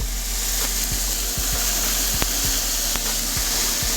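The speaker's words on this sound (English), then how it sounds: "And you hear that really nice sizzle." Bacon-wrapped pork tenderloin sizzles in a pan, a steady broadband hiss with faint pops and crackles, heard alone.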